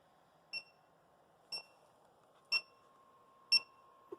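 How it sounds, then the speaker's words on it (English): A 3D printer's filament run-out alarm beeps four times at a steady one-second pace in a quiet room, followed by a faint click. "when it starts beeping, it's prompting you to load the new filament."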